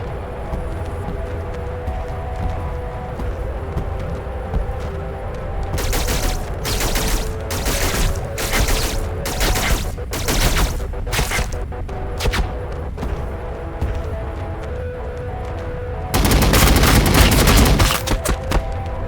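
Sci-fi gunfire from the strategy game Warhammer 40,000 Battlesector, as rapid bursts of automatic weapon fire crackling over a rumbling battlefield bed, closing with a louder sustained volley near the end.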